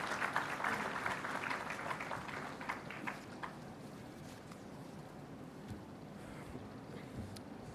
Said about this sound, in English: Can I have a round of applause for the Air Marshal,